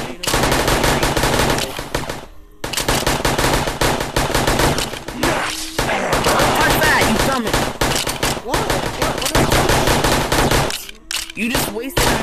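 Rapid automatic gunfire in a zombie survival video game in VRChat, loud sustained bursts with a few short breaks, close and dense throughout, with faint talk underneath.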